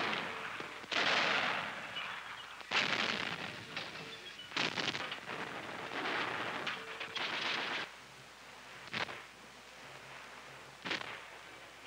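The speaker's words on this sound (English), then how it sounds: "Heavy machine guns and light artillery driving Russian defenses back into the city." World War II heavy machine guns and light artillery fire in a German advance against Russian defenses, heard as repeated harsh blasts and rumbling bursts of varying length on a worn, noisy old recording, with no talking.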